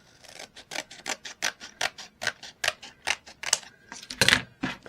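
Scissors snipping excess fabric off a sewn scrap project, a quick series of about a dozen sharp, close cutting clicks in an even rhythm, with a heavier rustle near the end.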